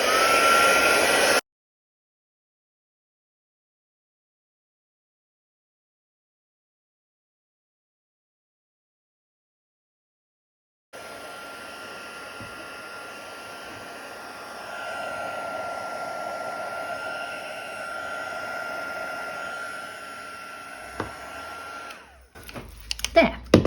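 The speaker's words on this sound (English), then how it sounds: "I've plugged in my heat gun. Hopefully it won't go bang." A heat gun blows steadily on puff paint, or expander print, on a machine embroidery, a constant close airy roar that starts after a long silence and swells louder partway through, ending with some handling clatter.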